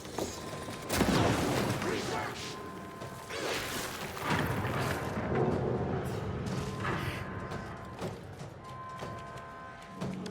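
Blackrock launcher fire and impacts in the Alan Wake 2 Lake House expansion, dense mechanical clatter and booming bursts layered over continuous game noise and ambience, with players talking throughout.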